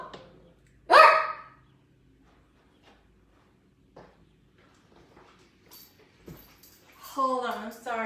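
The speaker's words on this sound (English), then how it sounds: "Yep, it's just our dog Winston barking." A pet dog lets out one sharp, loud bark near the start, followed by quiet household sounds and brief talking toward the end.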